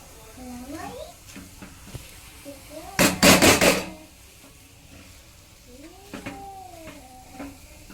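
Sweet potato shiro being stirred in ghee with a spoon against a metal pot, a short burst of loud scraping clatter between stretches of talking, with soft clinks around it.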